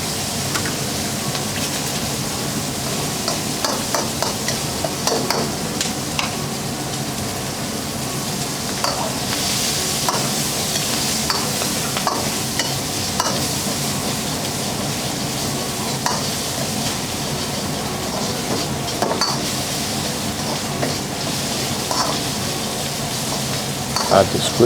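Egg stir-frying in a wok for seafood glass noodles makes a continuous loud sizzle, broken by frequent scraping and tapping clicks of stirring.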